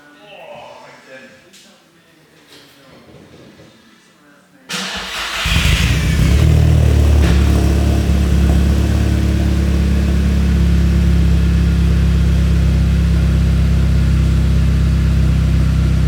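A Volkswagen Jetta fitted with a titanium exhaust back box fires up after a few seconds of quiet background noise, then settles into a loud, deep, steady idle rumble close by.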